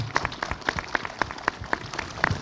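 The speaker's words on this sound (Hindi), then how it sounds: "लग रही है तो तालियां बजा सकते हो" An audience claps at an outdoor youth interaction event in Ladakh, sharp irregular claps sounding close and fairly loud, steady throughout with no voices over them.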